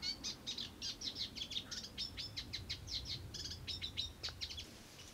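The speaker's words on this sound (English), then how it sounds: "The reed warbler. These noisy birds have flown all the way from the Sahara Desert" Reed warbler singing from a reed bed, a fast run of repeated chattering notes that carries on without a break. Close and clear over a low background rumble.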